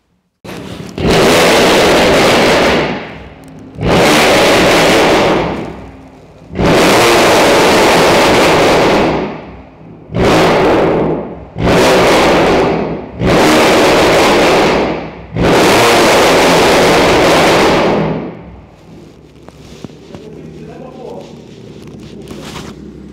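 A BMW M2 Competition with a titanium exhaust starts up and revs hard in a series of seven loud, roaring blasts separated by short drops to idle, then settles to a rumbling idle.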